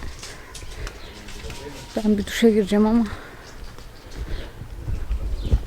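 Pigeons coo nearby in a short burst of throaty, rolling calls midway through, with flapping and rustling around them and someone talking over the scene at a seaside holiday spot.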